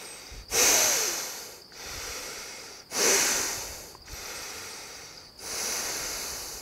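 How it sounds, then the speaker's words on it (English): Deep yoga breathing, close and clear: slow, hissing nasal inhales and exhales alternate in a steady rhythm, about five long breaths with no speech. "let's take 9 breaths while doing this"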